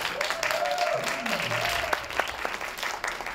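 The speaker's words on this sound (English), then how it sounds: "You guys clapped, I didn't even tell you to" An audience at a Brooklyn literary event breaks into spontaneous applause, a steady wash of clapping over a few seconds while a voice speaks over it.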